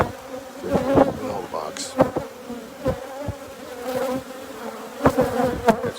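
Honey bees buzz steadily around open beehives during an inspection, a dense close droning hum with louder swells as insects pass near, while a few faint voices murmur underneath.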